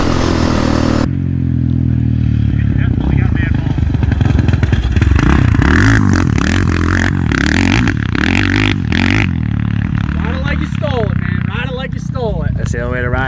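Yamaha Raptor 686 and Polaris Predator 560 quad ATVs riding, engines revving and droning loudly with clattering and scraping, while a person talks over the noise throughout.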